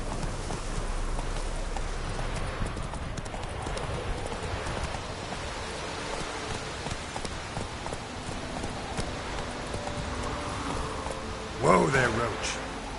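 Horse Roach's hooves clip-clopping at a gallop in the Witcher 3 game, a steady rhythmic patter over rain-like ambience, with a brief louder snort or whinny near the end.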